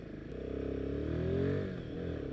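Royal Enfield Himalayan 450 single-cylinder motorcycle engine running near at hand, a low, steady thumping idle that swells briefly in a gentle rev and then settles back.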